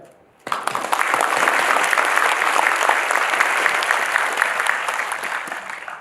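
Sustained applause from a large conference audience at ASPA 2025 starts abruptly and holds steady, dense clapping filling the room throughout.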